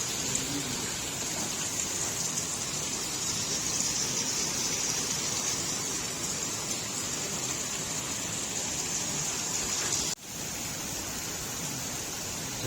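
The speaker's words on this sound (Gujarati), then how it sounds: "बारिश स्टार्ट हो गई है" Heavy rain pours steadily in a dense, even hiss that holds for the whole stretch, dropping slightly after a brief break near the end, with no one talking.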